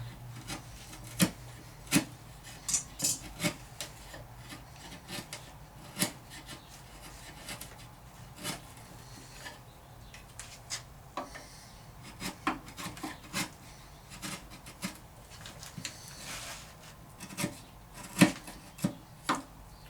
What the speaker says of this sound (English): Using my larger, flatter chisel to get some of that out of the way.